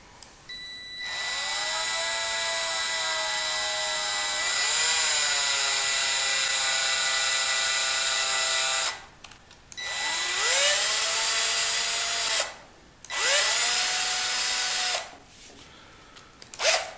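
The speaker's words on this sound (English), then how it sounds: "I do most of the tapping with the cordless drill" Cordless drill driving a tap into holes in parts for a model organ conductor figure, whining loudly and close in long sustained runs that rise and fall in pitch, separated by brief gaps.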